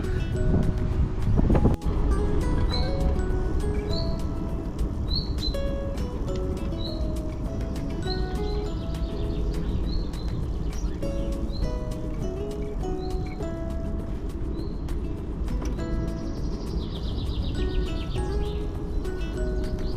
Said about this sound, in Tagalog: gusto natin marinig yung huni ng mga ibon